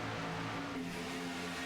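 Race cars lapping a racetrack during a Winstel 400 weekend shootout, a steady distant engine drone at low level, with no talk.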